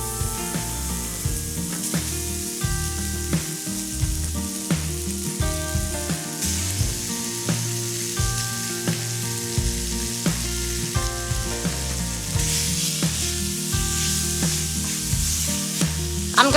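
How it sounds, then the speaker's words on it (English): Cut-up bacon frying in a preheated cast iron skillet, a steady close sizzle with bursts of popping fat and occasional scraping or stirring clatter running throughout, no talk. "So I've got a pound of bacon cut up here, and I'm gonna go ahead and get it in my preheated cast"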